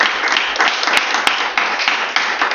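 A church congregation claps and cheers in praise, a dense sustained wash of many hands, with a few sharper individual claps popping out above the steady roar.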